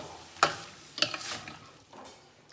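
Ham pieces fry in a pot for split pea soup, with two distinct scraping stirs over a low, steady sizzle.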